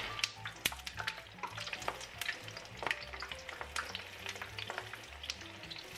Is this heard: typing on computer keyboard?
no